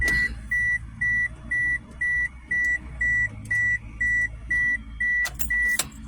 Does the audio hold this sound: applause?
no